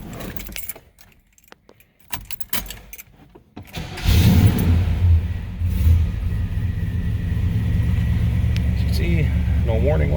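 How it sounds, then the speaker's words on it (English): Keys jingle before a 1971 Chevrolet Chevelle Malibu with its original 307 V8 cranks and fires, then settles into a loud, rumbling idle that continues steadily. "we will go ahead and shut this off and get the car started for you"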